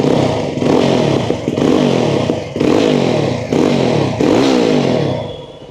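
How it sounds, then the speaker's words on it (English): Exhaust of a 2025 Jawa 42 FJ motorcycle with its 334cc Alpha 2 engine, a loud, close popping burble that surges in repeated revs with short dips between, no talk. "So it's got that nice popping, burbly sound, exhaust sound, which is quite likable."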